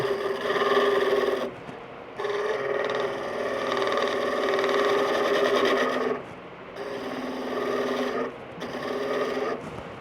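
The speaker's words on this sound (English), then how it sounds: "I'm getting chattering very near a catch" A woodturning tool chatters against a spinning wooden pencil pot on a lathe near a catch, a buzzing rasp in three long bursts separated by brief pauses.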